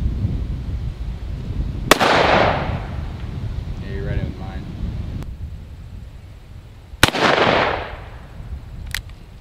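Ruger Super Redhawk .44 Magnum revolver fired outdoors, two loud sharp blasts several seconds apart, each with a booming tail, and brief speech in between.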